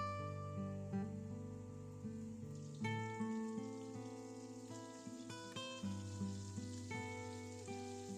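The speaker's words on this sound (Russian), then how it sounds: "И выкладываю все котлетки в сковороду. Нам нужно будет их немного обжарить." Italian-style meatballs fry in vegetable oil in a deep pan, a faint continuous sizzle and crackle heard under background music.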